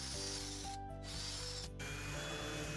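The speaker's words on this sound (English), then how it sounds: "I'm just using the same cleaner with the drill brush attachment to really get into the details" A drill brush whirs steadily with a rhythmic mechanical ticking, briefly dipping twice as it scrubs a vintage wooden end table with cleaner, no speech.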